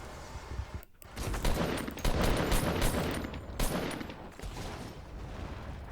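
Dense, continuous machine gun fire from a video game, rattling in rapid overlapping bursts for several seconds.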